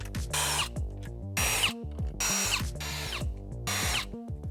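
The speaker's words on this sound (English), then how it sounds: "I'm going to use a drill. You could use a screwdriver. And a T15 is a Torx bit." A power drill with a Torx T15 bit drives screws out of a 2019-2024 GMC Sierra or Chevy Silverado dash, with short whirring bursts that rise and fall in pitch and are separated by brief pauses.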